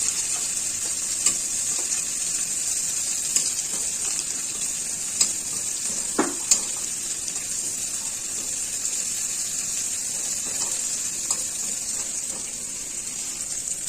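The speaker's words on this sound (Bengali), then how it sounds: "এইভাবে আস্তে আস্তে করে মশলাটা ভেজে নিতে হবে।" Gentle, steady sizzling of spices frying slowly in a pan for a potato and pointed gourd curry, with occasional soft clicks and scrapes of stirring; no voices.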